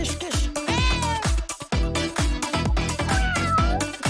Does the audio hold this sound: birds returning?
no